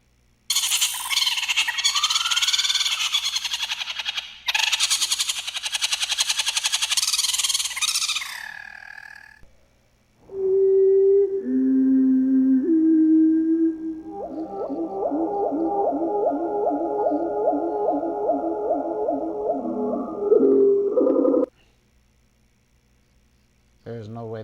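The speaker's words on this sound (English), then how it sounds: "there's no way that I thought the Dilophosaurus would sound like that" A reconstructed Dilophosaurus call: harsh, noisy bursts of squawking and rasping, followed by a clear, trilling, bird-like warble that steps through several tones and ends abruptly, fairly close and with no talk.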